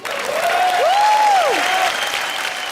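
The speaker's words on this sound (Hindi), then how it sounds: "लेकिन दिल वाले के लिए जोरदार तालियां हो जाएं।" Studio audience applause on a TV comedy show, loud and sustained clapping from a crowd with a whistle-like tone gliding over it, no speech heard.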